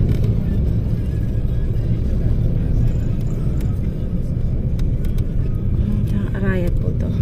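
Busy market-day street traffic in the town centre of Arayat, with many tricycles: a steady, dense engine rumble rolls on throughout, with passing vehicles blending into a continuous roar.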